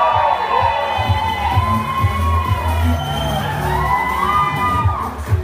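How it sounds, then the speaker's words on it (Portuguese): A race-day crowd at an awards ceremony for a women's trail run cheers and whoops loudly for a second-place finisher, with children's shouts mixed in, a steady dense roar throughout. "uma salva de palmas para Carol Benetti"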